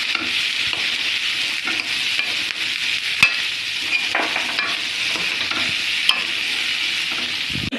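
Chickpeas frying in hot oil with turmeric, stirred steadily in a pan; a loud, continuous sizzle with scraping stir strokes and a few sharp clinks of the spoon, no voices.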